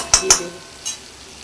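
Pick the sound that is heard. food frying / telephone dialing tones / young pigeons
food frying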